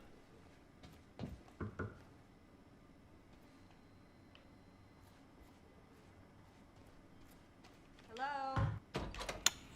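A door in the video game Quantum Break, played on Xbox Series X, gives a few dull thunks and clunks early on, then a louder burst of knocking and a slam near the end, with a short spoken greeting.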